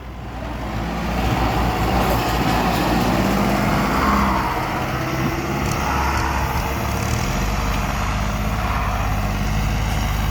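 Turbocharged Kubota L5018 tractor, 1.9 engine, held at around 1700 rpm. Its deep diesel engine note runs close and constant for the whole stretch, with a slight swell early on, and no one talks over it.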